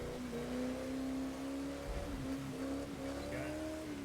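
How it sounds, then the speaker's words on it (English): Race cars in The Crew 2 thunder across an antique covered bridge, their engines droning loud and steady with rising revs throughout, close and continuous. "The most modern cars in the world thundering their way across an antique."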